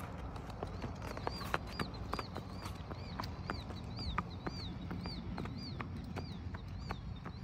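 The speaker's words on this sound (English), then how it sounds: "Trot him down and trot him back." A 2011 AQHA Quarter Horse, 16.1 hands, trots on a steady hard-ground rhythm, its clip-clop hoofbeats crisp and evenly spaced throughout. Faint birdsong chirps repeat in the background, and no one talks.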